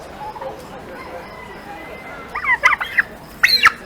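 A turkey hen at a poultry show gives short bursts of loud, close gobbling squawks near the end, over low background noise.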